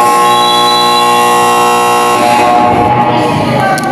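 A long, loud electronic buzzer blares at a basketball game, one sustained flat tone that holds for several seconds before crowd noise swells beneath it.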